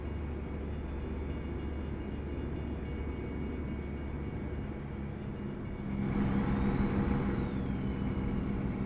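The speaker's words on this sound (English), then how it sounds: "I hear the train" A train rumbles past in American Truck Simulator, a steady low drone under engine hum that grows louder and fuller toward the end, with a faint high whine.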